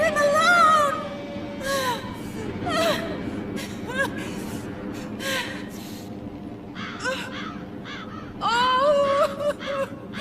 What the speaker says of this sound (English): Go away, filthy birds!